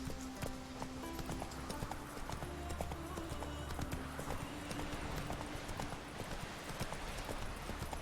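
Roach the horse gallops through The Witcher 3, steady rhythmic hoofbeats drumming close and loud beneath a continuous game soundtrack, with a faint whinny and little speech.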